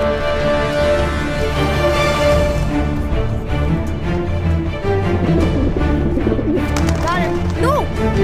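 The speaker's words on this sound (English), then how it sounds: "That's one pigeon. How dare you waste the pigeon!" Pigeon cooing in a video game, a steady run of soft, throaty coos close up and continuous, with a few sharper chirps near the end and someone talking over it.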